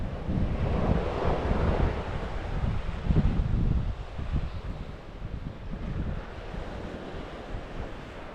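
Sea waves surge and wash onto the beach along the coast between Hopton on Sea and Gorleston on Sea. The rushing surf is continuous and fairly close, mixed with gusty wind buffeting the microphone.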